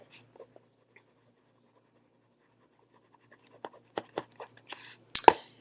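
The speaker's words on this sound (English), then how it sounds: "I'm gonna write that down." A pen writing on paper, near-silent at first, then a series of short scratchy strokes building toward the end, close and fairly quiet.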